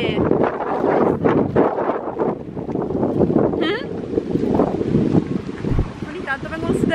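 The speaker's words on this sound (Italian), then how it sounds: "Ogni tanto vengono su delle folate di vento allucinanti qua" Strong wind buffets the microphone in rough, roaring gusts on a beach in Fuerteventura, with surf in the background and voices speaking faintly through it.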